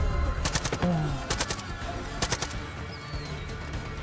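Enemy gunfire rattles in Far Cry 5, with several close bursts of automatic shots in uneven clusters and sharp cracks over a low rumbling background.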